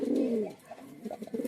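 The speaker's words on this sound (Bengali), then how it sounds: "এটা খুব কস্টলি পায়রা আছে" Close, loud cooing from a costly breeding pigeon in a loft, one long throaty coo followed by a few softer, shorter coos.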